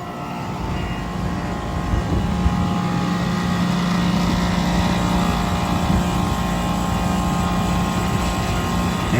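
A Rheem central air conditioner with a stuck TXV and a loud compressor runs just after being plugged in. It produces a steady, loud mechanical hum and roar with a constant low drone and no pauses.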